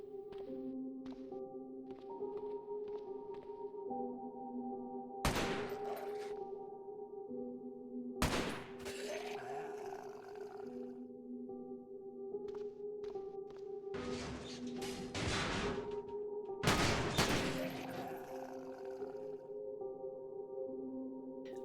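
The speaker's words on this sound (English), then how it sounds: "We take out a few zombies with our new AK." An AK rifle fires at zombies in the survival game Cataclysm: Dark Days Ahead. Several sharp single shots and short clustered bursts ring out over a quiet, steady droning music bed.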